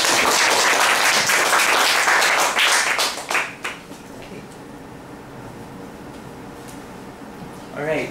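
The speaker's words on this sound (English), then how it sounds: "Give me a round of applause." Audience applause at a talk on butterfly ecology and conservation, a dense burst of clapping that fades out after a few seconds into quiet room tone, with a brief sound returning at the end.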